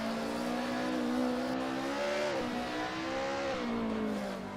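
Racing cars on a touge mountain road in a video game give a steady, loud engine drone whose pitch rises and dips through gear changes and corners, with no talk.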